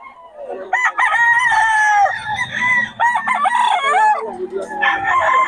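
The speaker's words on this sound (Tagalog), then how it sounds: "Oh, mga manok natin mga idol." Loud rooster crowing fills the clip, several drawn-out crows in quick succession with a few clucks mixed in, close and prominent.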